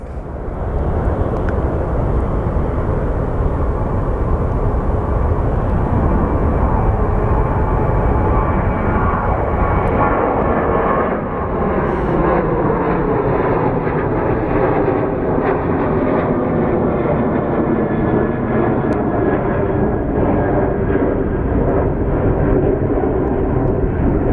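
A WestJet airliner rolls and departs at Phoenix Sky Harbor airport, its jet engines a loud, steady roar that rises and shifts in pitch as it powers up and moves away, with no talking.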